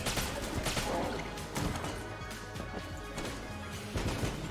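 Gun explosions in the video game Enter the Gungeon come as repeated loud crashing blasts and thwacks, several sharp bursts over a busy, continuous game soundtrack.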